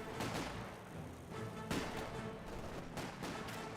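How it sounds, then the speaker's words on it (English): Mortar fire and battle explosions in Company of Heroes 2, with repeated heavy blasts and gunfire bursts spread across a dense, continuous wall of combat noise. "Oh, that's a mortar, not an MG."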